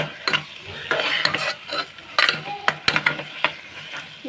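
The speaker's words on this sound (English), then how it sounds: "So you need to give it a continuous stir" Bitter gourd curry stirred in a pan over a medium-high flame, with repeated scraping strokes of a utensil against the pan bottom over a steady sizzle, loud and close, no talking.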